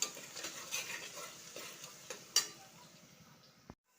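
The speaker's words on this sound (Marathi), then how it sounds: "कांदा आपल्याला थोडा परतळून घ्यायचा आहे, लाल होईपर्यंत आपल्याला थोडा हा परतळून घ्यायचा आहे।" Onion sautéing in a pan until it turns reddish, a soft continuous sizzle with scattered stirring clicks and one sharp utensil knock near the end, fairly quiet and with no talking.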